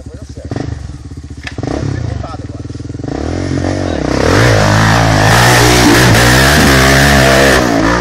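A motorcycle engine revs hard at a trail riding event, loud and close, climbing into a sustained high roar while people shout and talk over it.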